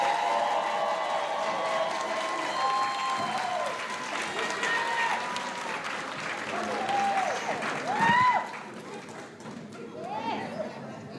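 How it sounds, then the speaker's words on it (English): Audience applauding a graduating eighth-grade class at a school promotion ceremony, a steady crowd-wide patter of clapping running throughout with scattered voices and cheers mixed in. "please join me in giving this class a boisterous round of applause"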